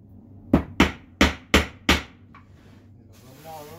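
Five sharp hammer blows drive nails halfway into wood in a steady, evenly spaced rhythm, close and loud, followed by a faint tap and a brief stretch of quieter background noise.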